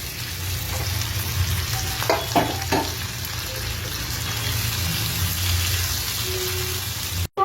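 Beef pieces sizzle and fry over high heat on a gas stove, a steady loud crackling hiss with a few scraping stirs near the start and a brief knock near the end.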